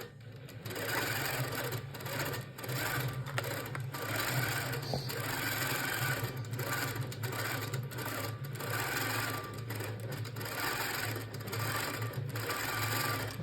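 Handi Quilter Pro Stitcher longarm sewing machine stitching a quilt, a steady, fast, continuous mechanical whir and rapid needle chatter that runs close and loud for the whole stretch with no talking.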